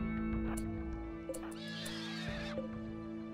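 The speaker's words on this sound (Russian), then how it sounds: "Конечно же, кота-лошадь — не то, чего нам хотелось бы встретить." A horse-like cat-horse creature in the video game RimWorld gives a loud, close neigh, a rising and falling whinny against a steady game music or ambience bed, with no one talking.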